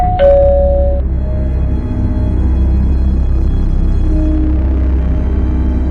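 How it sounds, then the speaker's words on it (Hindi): A doorbell gives a single clear ding-dong chime right at the start, then fades into a steady low rumble of room ambience. "अचानक दरवाजे की घंटी बजती है।"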